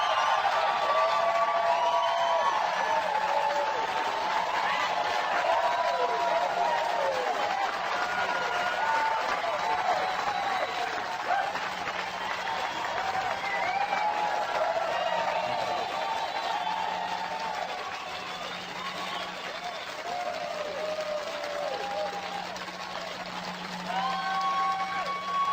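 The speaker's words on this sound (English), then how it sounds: "Give yourselves a round of applause." A large audience at a motivational speaking event breaks into sustained applause and cheering, a dense wash of clapping that swells loudly and then slowly thins out over about twenty-five seconds.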